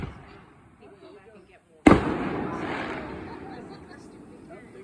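A single loud Fourth of July firework bursts sharply overhead after a quiet stretch, its boom trailing off into a long crackling decay, with people chatting faintly nearby.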